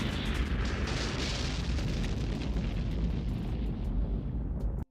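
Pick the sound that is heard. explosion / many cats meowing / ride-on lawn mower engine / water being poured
explosion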